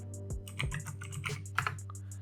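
A computer keyboard clicks in short, irregular bursts of keystrokes while a layer is renamed in After Effects, the taps close and fairly quiet with no talking.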